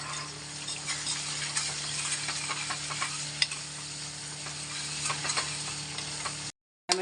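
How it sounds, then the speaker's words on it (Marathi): Chopped onions with a pinch of salt fry in hot oil, a steady close sizzle with scattered stirring clicks and scrapes, cut off by a short silent gap near the end. "मरून कलर येईपर्यंत तळून घ्यायचे."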